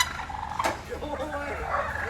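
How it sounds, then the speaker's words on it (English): Aggressive turkeys surround a delivery truck, gobbling calls rising over a steady outdoor rumble, with brief bursts of fowl chatter heard at moderate distance. "The aggressive birds surrounded this Amazon truck, pecking at it as the driver tried to drive away."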